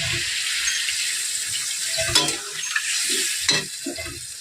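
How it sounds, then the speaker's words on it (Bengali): Water is poured into a pan of cauliflower and rohu fish curry, giving a soft splashing and bubbling sizzle with a few louder stirring clatters and no voices. "এবার দিয়ে দেবো জল।"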